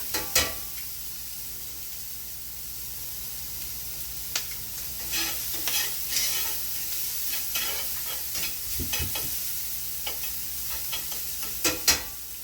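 Scallops sear in a hot pan with a steady, close sizzle, broken by occasional scraping and clinking as they are stirred.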